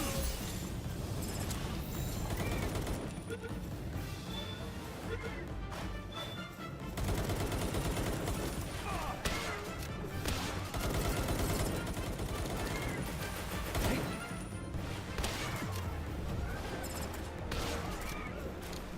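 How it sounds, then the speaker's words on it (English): A shotgun in Palworld goes off in repeated sharp blasts amid a dense, noisy game battle, with other creature and effect sounds around it and some speech mixed in. "The shotgun feels pretty cool to use, honestly."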